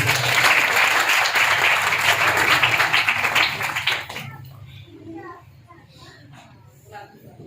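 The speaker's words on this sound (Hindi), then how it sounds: "आइए जोरदार ताली" A church congregation at a Hindi-language worship service applauds loudly, thick clapping for about four seconds before it drops away into scattered claps and murmured voices.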